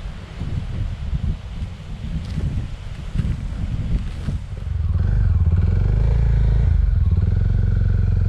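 A touring motorcycle rides on through Lombok, Indonesia, its engine droning beneath heavy wind buffeting that swells into a louder, steady rumble partway through, with no talking.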